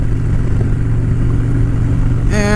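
A 2013 Harley-Davidson Dyna Fat Bob with a 103 engine on the move, giving a loud, steady, low rumbling exhaust with wind noise, then a brief rising whine at the end.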